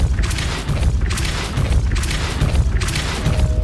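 Depulso force spell cast repeatedly in Hogwarts Legacy, heard as four loud rhythmic whooshing blasts with deep booming low end, spaced about a second apart over continuous game noise.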